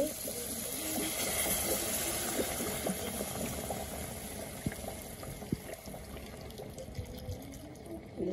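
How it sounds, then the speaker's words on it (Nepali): Soup broth is poured into a pot of cooking local chicken meat, a continuous liquid splash and bubbling simmer with scattered clinks of the pot, steady and close throughout. "अब म यसमा सुप हाल्छु"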